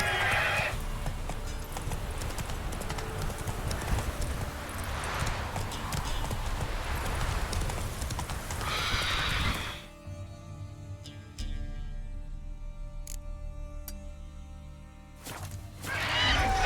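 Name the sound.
horse Roach trotting and neighing, from a Witcher video game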